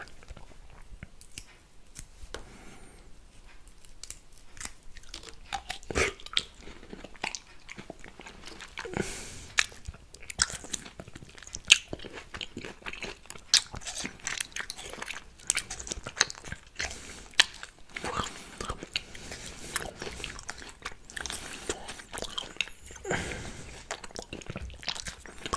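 Lychee fruit is peeled and eaten up close, with sticky, wet bites, soft crunches and squishy chewing in uneven bursts, loud and intimate with no talking.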